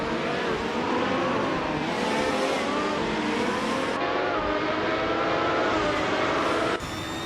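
Race cars lap a circuit, among them a 1984 Lola T610, their engines a loud, continuous roar that shifts in pitch as the cars pass, with a sudden cut near the end.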